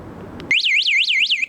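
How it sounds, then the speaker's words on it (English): A bicycle anti-theft alarm being tested sounds a loud, close warbling siren that sweeps up and down about four times over roughly a second, cutting in abruptly after a brief rustle. "that's an alarm test"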